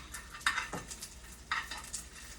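Plant-based Thai dumplings fry in a pan and are flipped, with a soft sizzle under two clear scraping turns of a utensil against the pan, close up and with no talking.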